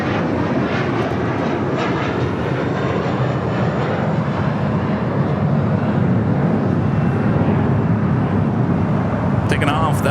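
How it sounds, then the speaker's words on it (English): An American Airlines Airbus A321 taking off at LAX bound for JFK, a loud, steady, broadband jet roar that holds constant and fills the whole stretch, with a faint voice briefly near the end. "Taking off, that was American Airlines Flight 2 heading to JFK in an A321"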